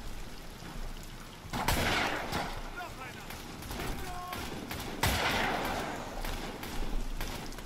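Gunfire in the video game Amnesia: The Bunker, two heavy blasts a few seconds apart with rumbling echoes, amid scattered clatter and game ambience.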